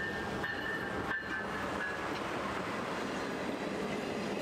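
Amtrak train hauled by a long-distance Siemens Charger locomotive runs steadily past, a continuous rumble with faint wheel squeal at the start, no talk.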